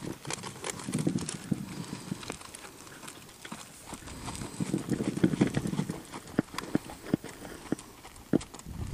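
A horse loping under a rider, with rhythmic clip-clop hoofbeats in steady bursts. Brief rustling and movement sit between the strides, and no one speaks.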